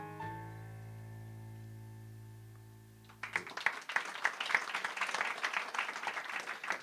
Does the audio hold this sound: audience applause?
yes